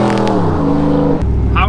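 A car fitted with a Speed Engineering true dual axle dump exhaust idles with a steady, low, reserved rumble that shifts pitch slightly partway through, and a voice may be faintly present over it.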